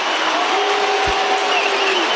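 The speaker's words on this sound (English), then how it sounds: "They cheer the mark, they jeer the kick" A large crowd at an AFL match between Essendon and Brisbane roars loudly and steadily at a goal, a dense mix of cheers and jeers with no break.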